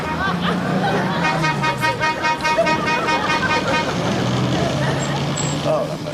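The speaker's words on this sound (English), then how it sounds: "I've had a car trying to pass me, hooting me for the last 15 miles." A car horn hooting repeatedly on a road, in bursts of bright honks over engine and traffic noise, with people talking throughout.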